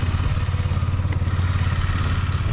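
A motorcycle engine runs at a steady idle, a close, continuous low throb with a quick even pulse and some light mechanical clatter, with no voices.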